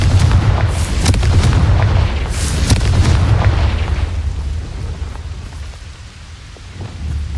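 The Confringo explosion spell in Hogwarts Legacy sets off a rapid cluster of loud, booming blasts with crackling debris. A deep rumble then fades slowly into a quieter tail.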